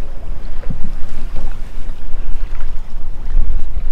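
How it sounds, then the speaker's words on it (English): Wind buffets the microphone while small waves slap and splash against and inside a kayak on open water while fishing off Galveston, Texas, a rough, uneven wash of noise with no voices. "without making too much noise with the wind, the waves splashing inside the kayak"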